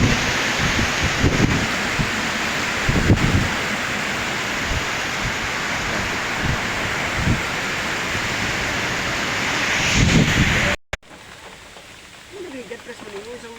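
Heavy rain pours down at a Caltex gas station, a loud, steady wash of noise with occasional dull thumps, then cuts off abruptly near the end to a quieter interior sound.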